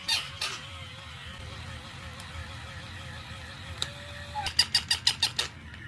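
A squeaky toy duck is honked during play with a cat and dog, giving a quick series of about six sharp, rhythmic squeaks near the end, after a wavering whistle-like tone over low background noise.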